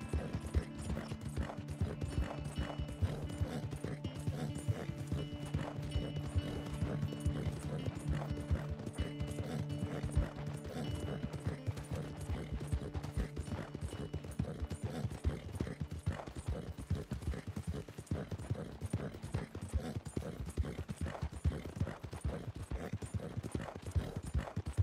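Rapid, steady hoofbeats of a galloping horse in Red Dead Redemption 2 clatter continuously for the whole stretch, with faint mechanical tones underneath early on.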